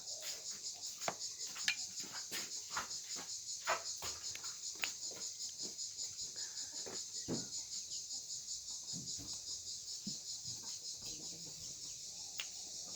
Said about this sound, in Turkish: Daha Ağustos böcekleri de hala cırlıyor.